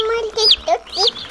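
Young chickens cluck and peep in short, rising chirps, close by, several calls in quick succession with brief gaps between them.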